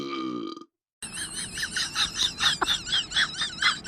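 A cartoon character in a classroom gives a long, loud, wobbling burp lasting about three seconds, following a brief tonal squeal and a moment of silence.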